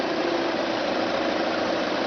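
Car engine idling steadily just after being switched on during a daytime running light installation, a constant even rumble with no voices.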